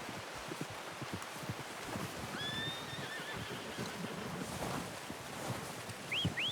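Within the Red Dead Redemption 2 video game, a horse gives a loud whinny partway through, with another brief neigh near the end, over soft hoof clops, rustling and a steady outdoor wash.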